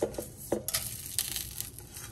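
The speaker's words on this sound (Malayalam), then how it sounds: "ഇതുപോലെ ഇളക്കി കൊടുത്തോണ്ടേ ഇരിക്കുക" Chilli, coriander and fenugreek being stirred in a hot pan: a few soft scraping and rustling strokes, fairly quiet and close, with no talking.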